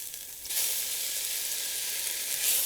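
Onions dropped into hot oil in a pan burst into a loud, close hiss that jumps up suddenly and then holds as a steady sizzle.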